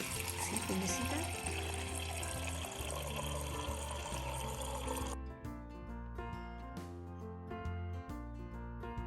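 Water runs from a kitchen refrigerator's door dispenser in a steady rushing stream over background music, then stops abruptly about halfway through.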